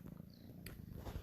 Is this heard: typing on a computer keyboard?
no